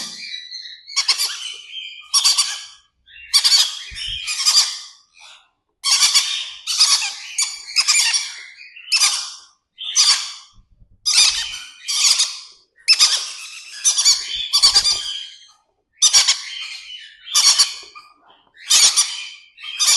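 Birds chirp and squawk in repeated bursts, loud and close, with short pauses between calls and no talking.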